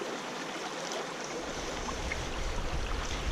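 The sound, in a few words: river water washing gravel in a gold pan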